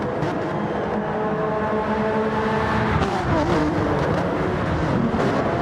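Race cars in Gran Turismo 7 at Catalunya roar continuously as the pack crosses the start-finish line, a dense loud engine wash with a pitch sweep as cars pass close.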